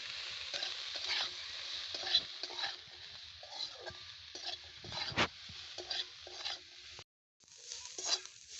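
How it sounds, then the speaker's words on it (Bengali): Vegetables fry lightly in a pan with a soft sizzle, broken by spatula stirs and scrapes, fairly quiet and close, with one sharp knock and a brief gap of silence. "এবারে আমি সবজিগুলো হালকা করে ভেজে নেব"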